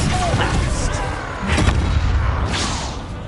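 Spell blasts in the video game Hogwarts Legacy, a few booming magical impacts and whooshes over loud combat noise, close and forceful.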